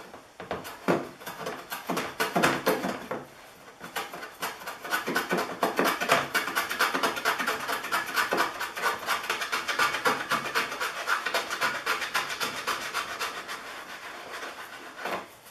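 Wood hand plane trimming a Kreg jig dowel plug flush, steady rasping strokes repeating in quick succession, close and fairly loud, with a brief pause early on before the strokes resume continuously.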